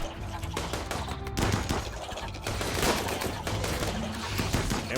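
Dense gunfire from gunners in the colony-sim game RimWorld, a steady barrage of overlapping shots and bursts running throughout, loud and continuous with music or game sounds mixed beneath.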